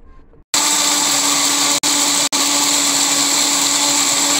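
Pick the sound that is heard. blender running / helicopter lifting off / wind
blender running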